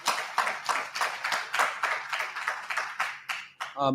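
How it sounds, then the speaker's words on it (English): A round of applause at a youth engagement forum on law and education, with dense hand clapping rising and falling in bursts over a few seconds before tapering off. "Give a round of applause for Brother Stevie Moore."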